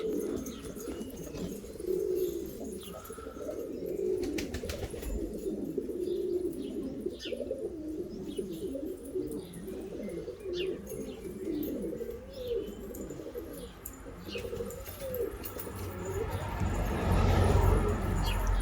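Silver-tailed flying pigeons coo softly in low, repeated rolling calls, with occasional chirps and a burst of wing flapping near the end, heard close in an outdoor loft setting without talk.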